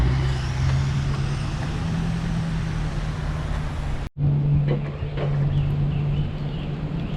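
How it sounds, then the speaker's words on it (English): A Georgia mountain coaster climbs its track, giving a steady mechanical hum and rumble with a low drone, continuous and close, briefly cut off near the middle. "It's the coaster going up."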